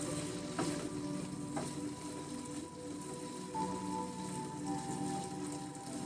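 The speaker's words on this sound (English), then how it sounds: "And then just give it a nice little stir." Seasoned vegan vegetable curry sizzles steadily in a pan while being stirred, a continuous close frying crackle with soft scraping strokes and no talking.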